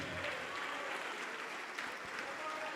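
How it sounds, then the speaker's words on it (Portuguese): A church congregation applauds in a steady, even wash of clapping that sounds fairly distant and soft, continuing without a break. "E vamos aplaudir mais ao Senhor Jesus, igreja"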